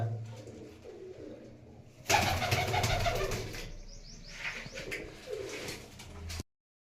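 Pigeons, mostly hens, coo at a rooftop loft, low murmuring calls repeating over a steady background, with a louder flurry of activity midway and faint flapping.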